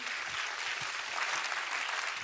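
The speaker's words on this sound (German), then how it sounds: "Können wir einen Applaus geben für alle, die im Camp sind, von hier in Zürich?" Church audience in Zürich breaking into applause, a dense, even wash of clapping from a sizable crowd that holds steady for the whole stretch.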